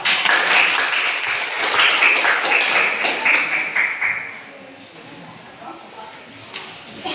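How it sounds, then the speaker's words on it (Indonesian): A classroom audience applauds a student group after its presentation at an Indonesian teacher-training session, with close, brisk clapping that swells and then fades away over several seconds. "beri aplaus untuk kelompok 2"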